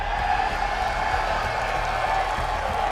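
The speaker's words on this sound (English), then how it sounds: "Man, this crowd is amazing" Arena crowd at a live Counter-Strike esports match in Fort Worth, a steady, dense wash of cheering and applause that holds at an even level throughout, with no single voice standing out.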